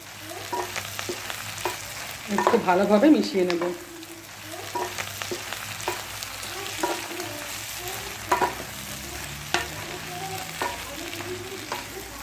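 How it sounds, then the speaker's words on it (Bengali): Torn pieces of chapati tossed and fried in a pan, a low sizzle with repeated scraping and clinking stir strokes, one louder rattling burst early on, close and without talk. "ছিঁড়ে রাখা রুটিগুলো দিলাম। একটু ভালোভাবে মিশিয়ে নেব।"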